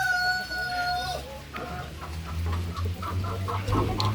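Hens cluck in a backyard Filipino poultry pen where a newly added chicken is being pecked by bullying flockmates. Several birds make short, overlapping clucks and calls at close range, with low background rumble throughout.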